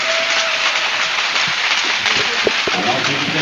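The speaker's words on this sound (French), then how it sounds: "pas de main d'applaudissement à Bill." Applause from a crowd at a hockey league final ceremony on an ice rink fills the space, a steady wash of clapping with a few sharper claps, heard fairly close.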